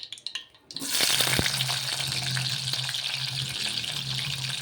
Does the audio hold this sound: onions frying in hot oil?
yes